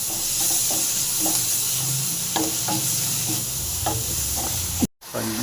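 Goat brain frying with ginger in a pan gives a steady, close, loud sizzle, with light scraping stirs along the way. A brief cutout comes near the end.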